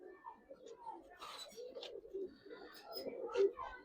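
Pigeons coo in repeated low, throaty phrases at a bird market where giribaz and coloured pigeons are sold, fairly close, with background voices and market bustle mixed in.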